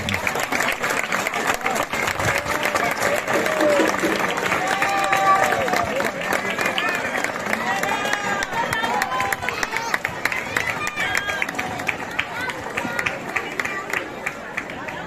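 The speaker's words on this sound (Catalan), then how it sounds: "Fort aplaudiment!" Loud, sustained applause from a crowd at a children's giant-figure gathering in Caldes de Malavella, greeting the young dancers of the faràndula; clapping runs steadily for about fifteen seconds with crowd murmur and voices mixed in.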